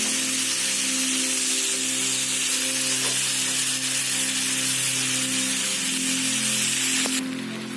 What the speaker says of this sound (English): So we'll sizzle our soya chap into 2 spoons of butter.